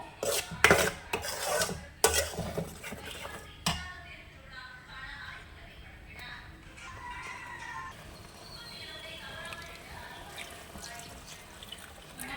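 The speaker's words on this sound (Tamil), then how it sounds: "வெங்காயம் தக்காளியெலாம் அரைச்சி வச்சுருந்தோம்ல, அதையும் இதில் ஊற்றி கிளறிட்டோம்." Ground onion-tomato paste is poured into a brinjal gravy and stirred, opening with several loud clanks and scrapes of a spoon against the pot, then settling into quieter bubbling with a rooster crowing faintly in the distance.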